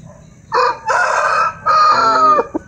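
A rooster of a bred chicken stock crows loudly and close by in two long calls, with a short cluck at the end over quiet farmyard background.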